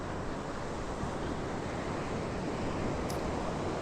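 A steady, broad roar of surf washes continuously on a sunny California beach with swimmers in the waves, with wind rushing across the microphone and no distinct voices.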